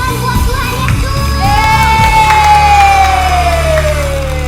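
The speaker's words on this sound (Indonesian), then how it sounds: "Yang bersukacita, tepuk tangan buat Tuhan Yesus." A group of children cheering and shouting loudly at a church worship service, a sustained crowd roar with a rising whoop over steady music.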